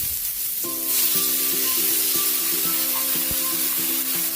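Water splashes into a hot pan of carrots and sets off a steady, loud sizzle that hisses on without a break, while a low electrical hum runs beneath it.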